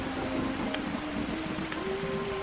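Steady rain falls nearby, a dense even hiss of drops striking surfaces with no voices present.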